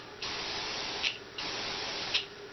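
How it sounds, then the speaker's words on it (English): Two short bursts of hairspray from an aerosol can, each a steady hiss lasting about a second with a small spitting tail, sprayed from a distance onto a floral foam model conifer. "Start off with use the hairspray at quite a distance just to set it"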